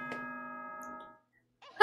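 Nighttime announcement chime from the Danganronpa 2 video game, a sustained two-tone electronic bell ringing for about a second before fading to silence, followed by a short burst of speech.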